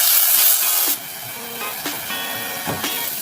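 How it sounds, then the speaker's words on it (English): Chopped onion hits hot ghee with Thai chili and cumin seeds in a pot, a loud, steady, broadband sizzle and hiss that settles slightly after the first second, with a few small crackles and pops. "Add the onion."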